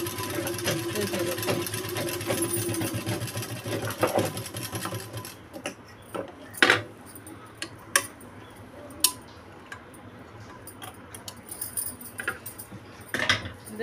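A sewing machine stitches a two-piece umbrella frock, running steadily and close for about five seconds, then stopping, followed by scattered clicks and light handling noises.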